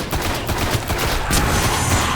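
Rapid gunfire from weapons in the video game Destiny, a dense fusillade of shots rattling continuously and loudly for about two seconds.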